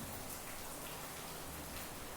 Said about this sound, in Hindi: लगातार तेज बारिश हो रही है नागौर जिले में दोस्तों